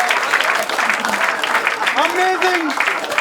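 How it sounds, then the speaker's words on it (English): A studio audience applauds a winning contestant on a guessing game show, with sustained clapping and cheering voices mixed in, fairly loud and close. "Huge round of applause for Amit sir."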